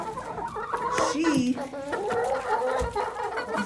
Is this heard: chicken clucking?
yes